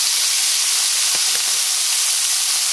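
Green beans dropped into a pan of melted butter and olive oil set off a loud, continuous steamy hiss and sizzle with a couple of faint soft knocks.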